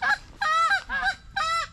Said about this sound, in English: Those geese didn't like the dead birds.